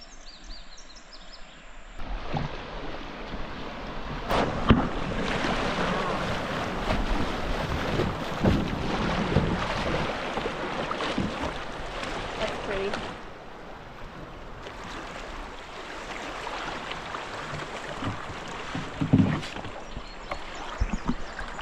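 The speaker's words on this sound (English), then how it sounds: "It looks like we finally got a little bit of rapids." A canoe runs through small rapids on the Buffalo River in Arkansas, with rushing, splashing water and heavy wind buffeting the microphone throughout, loud and continuous after a quieter start.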